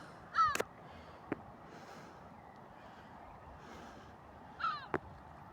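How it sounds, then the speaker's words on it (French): Seagulls calling outdoors in Sweden near Nickelviksberget: two short, raspy cries a few seconds apart, fairly close, over quiet background ambience with a faint tap between them. "Même ici ça existe les mouettes."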